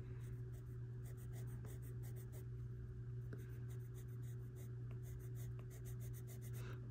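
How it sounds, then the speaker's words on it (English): Faber-Castell Polychromos colored pencil shading a dark area on paper, a quiet, steady scratchy rhythm of close strokes over a constant low hum. "This is a very dark area, so we're using this pencil to emphasize this part."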